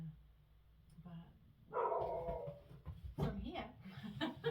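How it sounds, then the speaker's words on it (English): A dog gives a howling bark, a drawn-out yowling cry in the middle followed by shorter vocal bursts, fairly close, with people talking and chuckling around it. "good howly bark"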